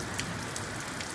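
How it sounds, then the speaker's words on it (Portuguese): Steady rain falling on an orchard property, a dense, even hiss of drops with a few slightly louder patters, continuous and close, with no talking. "Eu tô filmando é para mostrar a chuva mesmo."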